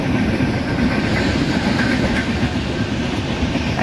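Locomotive-hauled train running in Indian Train Simulator with a WTP40 locomotive from Tughlakabad shed on a New Delhi–Bhubaneswar Duronto service: a steady, loud rumble of wheels and rail noise, continuous throughout with faint clickety-clack.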